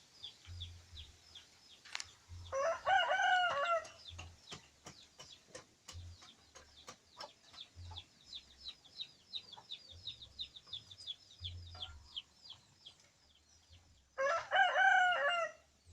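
A rooster crows twice in a traditional chicken coop, once early and once near the end. Between the crows, hens cluck softly and sporadically, with faint low thumps in the background.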